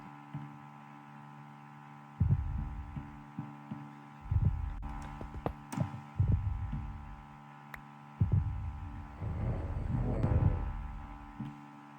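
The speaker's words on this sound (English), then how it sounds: "His heartbeat sound is actually terrifying." The monster's heartbeat in a Backrooms horror video game thumps in heavy, deep double beats at irregular intervals, loud and close over a constant low droning hum.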